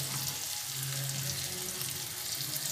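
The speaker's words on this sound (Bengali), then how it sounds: "পেঁয়াজটা একটু ভাজা হবে।" Onions fry in a pan for mustard rui fish curry, a faint but even hiss that holds steady over a low background hum, with no one speaking.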